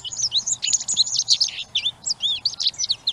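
A small bird chirps and tweets in quick, high-pitched bursts, close and clear, a busy run of varied twittering notes with no talk.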